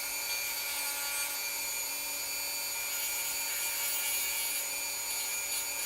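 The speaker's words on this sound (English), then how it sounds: "We're going to Dremel this down." A Dremel rotary tool grinds down a part during a repair, a steady high-pitched whine with a dense buzzing texture that holds evenly throughout at moderate loudness, with no talking.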